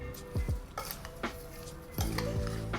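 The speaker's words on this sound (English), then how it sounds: "We're going to add the lemon juice and we're going to mix it all up." Berries stirred with lemon juice in a bowl for a crumble, with a few light clinks and scrapes of a utensil against the dish spread out across the moment, close and fairly quiet, no talking.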